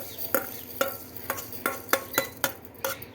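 Spices for an amla pickle are dry-roasted and stirred in a pan, giving a regular rhythm of about seven quick scraping strokes over a soft, quiet sizzle, with no voices.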